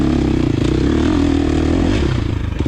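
A 2023 KTM 350 XC-F dirt bike engine revs hard up a steep scramble climb, a loud close buzzing drone holding steady pitch in second gear with clattering over rough ground.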